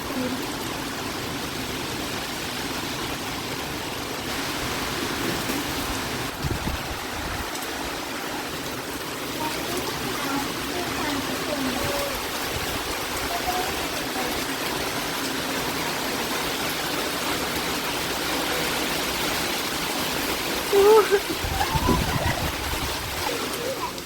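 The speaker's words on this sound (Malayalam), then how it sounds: "ഇപ്പം മഴ കുറച്ച് കുറഞ്ഞ്" Steady rain falls in a continuous wash of hiss, even and moderate throughout, with a brief louder splash near the end.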